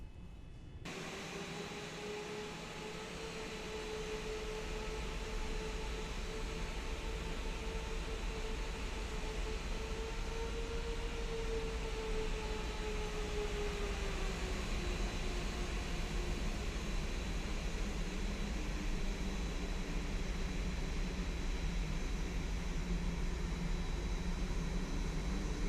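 A Qantas Boeing 787-9's jet engines in X-Plane 11 build to a loud, steady roar with a rising whine as the airliner powers up for takeoff, holding a sustained drone throughout with no voices.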